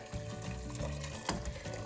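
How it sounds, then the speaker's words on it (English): Boiling water pours steadily into soaked, swollen chickpeas in a pot bound for the pressure cooker, a continuous close splashing rush with a brief louder spill near the end. "now I'm going to put some water in"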